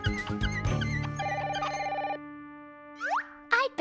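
A telephone bell ringing in rapid bursts, loud and close, followed by a ring that stops and some brief springy sound effects.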